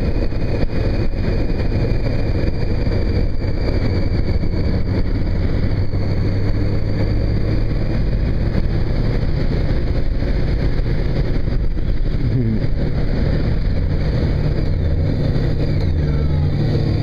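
A motorcycle engine drones steadily and loudly throughout a ride, a dense continuous roar with rushing wind and slight shifts in pitch.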